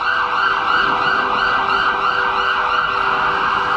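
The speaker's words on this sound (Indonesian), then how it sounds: "telinganya mendengar sirine ambulan meraung-raung." An ambulance siren wails continuously, its tone sweeping up and down in a steady cycle, loud and close over a low road rumble.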